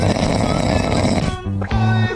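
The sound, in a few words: cat snoring loudly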